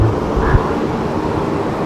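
Wind blows steadily outdoors in Libacao, a loud, close, continuous rumble buffeting the microphone with no voices.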